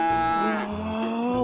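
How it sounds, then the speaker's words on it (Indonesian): A single long, low cow moo, loud and close, drawn out for over a second. "Wah, ada sapi."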